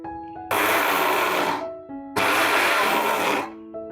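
A kitchen mixer grinder whirs loudly while grinding rice into powder, running in two bursts of about a second or more each, separated by a short pause in which the motor winds down.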